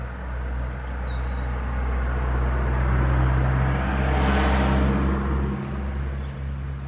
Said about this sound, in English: I think this might be the last car for y'all.